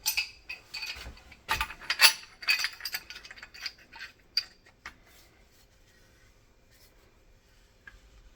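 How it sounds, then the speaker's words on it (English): A pipe wrench tightening a pipe fitting on an electric water heater, producing a run of metallic clicks, scrapes and clinks over about five seconds, followed by near silence and one faint knock. "I'm gonna take one of these guys, my pipe wrench, and I'm gonna get this nice and snug."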